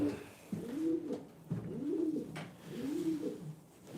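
Pigeons in a loft coo in three slow, rounded phrases, close and clear, each swelling and fading over about a second, with faint background rustle and no talking.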